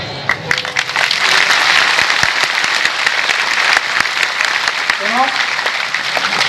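Audience claps in a temple courtyard during a devotional sermon, a loud sustained burst of many hands, steady and dense from start to finish, with a brief voice near the end.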